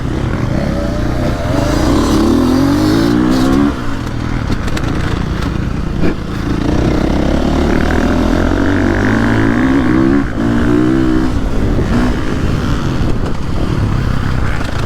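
A KTM 450 Factory Edition dirt bike engine drones loudly and continuously while ridden, its pitch rising and falling as the rider throttles through turns, with wind rush over the top.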